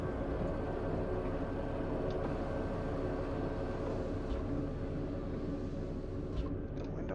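Freightliner Classic XL tridem day cab in the American Truck Simulator game, a steady low diesel engine drone running loud and unbroken throughout.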